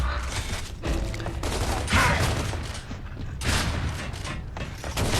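Rapid bursts of Gnasher shotgun fire in the video game Gears of War 3 during an online multiplayer fight, loud blasts repeating with mechanical clanks and a continuous din of game action.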